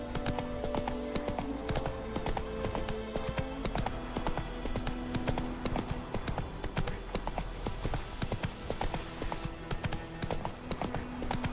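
A horse gallops in the Witcher 3 video game, its hooves drumming in a quick, steady rhythm amid game music and ambience, with no talk over it.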